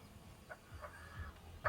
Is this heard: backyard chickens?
yes